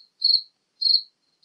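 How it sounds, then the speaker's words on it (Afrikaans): Cricket chirping in short, high, evenly spaced bursts, about three pulses separated by silence, clear and alone. "Die kriek se dreun sang verhoog in intensiteit."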